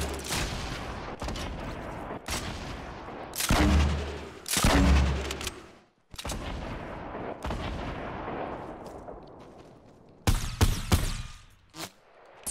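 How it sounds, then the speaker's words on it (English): Video game gunfight with a grenade launcher, several heavy booming blasts and thumps spaced irregularly, with lulls between and a dense cluster of loud shots toward the end. "That's a grenade launcher!"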